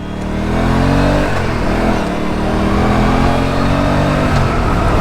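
An RS 457 motorcycle engine revs loudly through a series of clutch downshifts, its pitch stepping and blipping up and down up close, with no talk over it.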